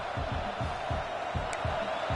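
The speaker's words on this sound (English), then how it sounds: "Listen to this crowd just shaking the girders of this place, trying to help their defense." A stadium crowd roars steadily during a football game as fans cheer on their defense, a dense, sustained wash of noise with rhythmic low thumps like stomping, filling the whole stretch.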